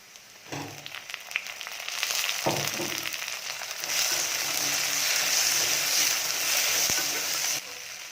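Onions and tomatoes sauté in a pan for a South Indian vegetarian lunch, a steady broadband sizzle rising after a few stirring knocks and holding loud and close to the end.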